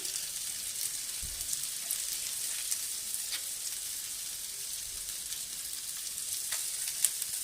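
Fish frying in hot oil, giving a steady, soft sizzle with faint crackles and pops that runs on without a break and without speech.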